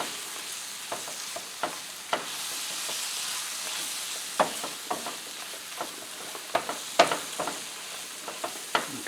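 A spoon scrapes and stirs through sausage gravy in a frying pan, with steady sizzling underneath and sharp clicks of utensil on metal, close and alone.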